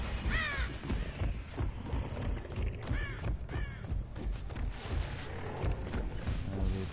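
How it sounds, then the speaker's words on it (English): Crows caw repeatedly in a video game, harsh calls rising and falling over a dense, steady game soundscape, several caws clustered near the start and the middle, with no talking. "I see birds around there."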